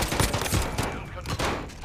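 Rapid video game gunfire crackles in dense, overlapping bursts for about two seconds, loud and busy, with faint voices mixed underneath.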